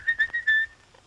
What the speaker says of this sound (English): all you have to do is whistle and they come right out